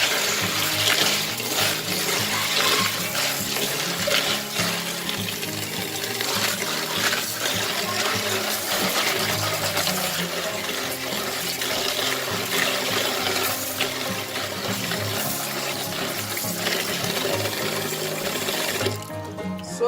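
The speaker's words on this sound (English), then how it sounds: "So I'm going to wash the beans." Black-eyed peas are rinsed under running water, a steady rushing flow with sloshing and splashing that holds at an even, fairly loud level throughout.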